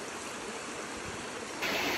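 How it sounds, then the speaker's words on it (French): Jungle river in the Luang Namtha forest of northern Laos, flowing with a steady, full broadband rush of water, close and continuous, briefly growing brighter near the end. "Donc là, on entend la rivière."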